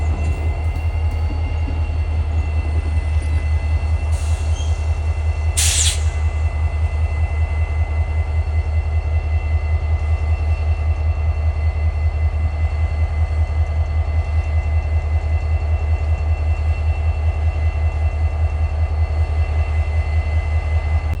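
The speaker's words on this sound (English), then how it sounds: "Hearing the train coming." A CSX freight train rolls steadily over railroad diamonds, a deep continuous rumble of wheels and cars holding loud and constant throughout, with a brief higher burst near the start.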